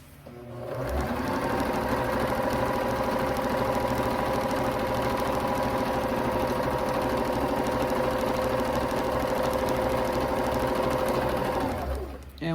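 A sewing machine runs steadily for about eleven seconds, stitching a drawstring backpack near its seam binding, with a constant mechanical hum and rapid needle rhythm that starts and stops cleanly.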